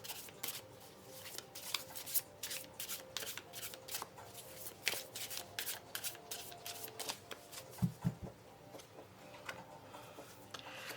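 Tarot cards shuffled steadily by hand at close range, a quick continuous riffle of papery flicks and slaps with a couple of soft thumps near the end, with no voice over it.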